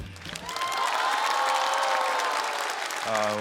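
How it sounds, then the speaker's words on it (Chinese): Live audience at a stand-up comedy show breaks into applause, a full, even burst of clapping from the crowd that swells and holds for a few seconds before a voice cuts back in near the end. "掌声谢谢"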